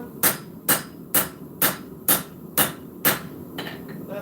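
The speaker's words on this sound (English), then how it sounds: "Rounding side of the hammer on the spine." Rounding side of a hammer striking the spine of a knife being forged, seven steady, evenly spaced metallic blows about half a second apart, loud and close, with a faint ringing tail after the last strike.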